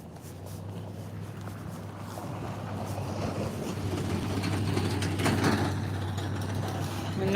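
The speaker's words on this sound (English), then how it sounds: "Another car passing by with a trailer." A car towing a trailer passes on a road in springtime Alaska, a steady low rumble that swells as it nears and stays loud through the pass, with no talk over it.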